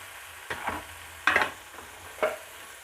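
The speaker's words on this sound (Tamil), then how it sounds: "இப்போ பாருங்கள், தக்காளி வெங்காயம் நல்லா வதங்கிருச்சு." Tomato and onion sautéing in a pan with a faint sizzle, stirred by a utensil in three distinct scraping strokes, close and alone without talk.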